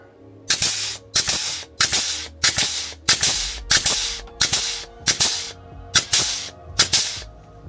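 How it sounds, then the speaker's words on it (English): A hand grease gun pumps grease into a NATO trailer hitch, giving about ten regular hissing, spurting strokes with sharp clicks, each burst roughly three-quarters of a second apart, close and fairly loud. "we'll use the unnecessary but cool all the same grease gun"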